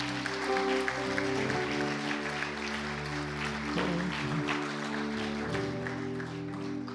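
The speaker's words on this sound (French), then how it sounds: "On peut applaudir le Seigneur." A congregation applauds during a French Christian worship service, a steady wash of clapping layered over sustained keyboard chords that continue throughout.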